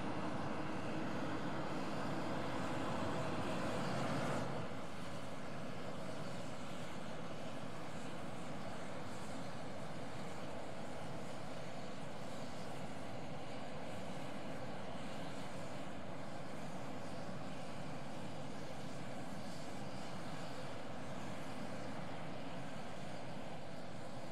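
A jet airliner on its takeoff roll from runway 01, a loud steady engine roar that dominates throughout and eases slightly after the first few seconds.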